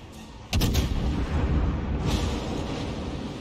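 The cruiser Seattle fires its naval guns in the video game World of Warships, a loud salvo of close booms followed by a long rumbling tail, with a second softer blast a moment later.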